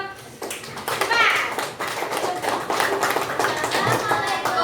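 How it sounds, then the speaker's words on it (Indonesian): Schoolchildren in a classroom clapping for a group, with a burst of scattered handclaps mixed with children's voices and chatter close by. "tepuk tangan buat kelompok 4"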